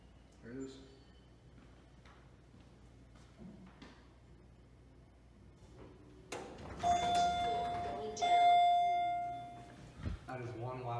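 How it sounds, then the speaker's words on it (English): Loud electronic arrival chime from a modernized ex-Otis traction elevator in an office building in Troy, Michigan, sounding two sustained tones after quiet hall ambience and door movement. "That is one loud chime."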